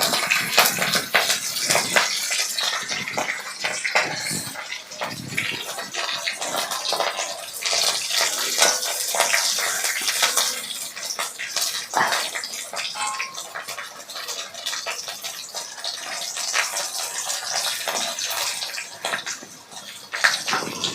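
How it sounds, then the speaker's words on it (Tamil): Goat meat and green chilies sauté in hot oil for a goat ratha poriyal, giving a loud, steady sizzling hiss with scattered crackles throughout and no talking. "எண்ணெயில் வதக்கிடுவோம். தெரிக்கும், கொஞ்சம் தள்ளியே நின்றுக்குங்க."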